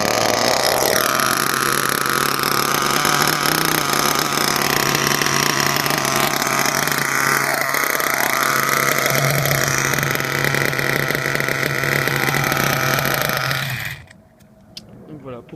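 A nitro RC car engine screams at high revs, a loud continuous buzzing whine that wavers in pitch for about fourteen seconds before cutting out abruptly.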